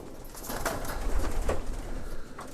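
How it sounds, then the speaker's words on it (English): Racing pigeons cooing inside a loft, soft repeated throaty coos from several birds at close range over a low background rumble, with a faint flutter of wings. "They're more Vanderbilt based, or Gino Clico, or that kind of pigeon"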